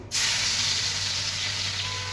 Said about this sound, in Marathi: इथं आता मोहरी तडतडली की हे लसूण टाके